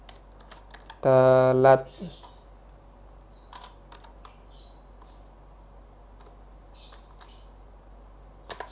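Computer keyboard keys tapped in sparse single clicks and short clusters on a quiet desk, with a brief spoken word near the start.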